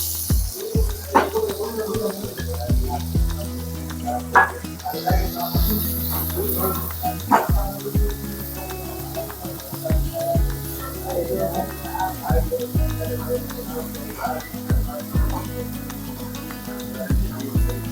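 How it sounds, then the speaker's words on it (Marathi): Onions fry in a pan for a dried fish and brinjal curry, with a loud, close sizzle and repeated stirring knocks and scrapes of a spoon against the pan throughout. "कांदा घालूया"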